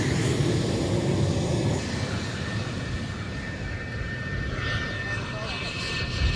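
Loud, continuous roar of an F-4 Phantom jet with two J79 engines, broad and rumbling, holding steady with slight swells throughout.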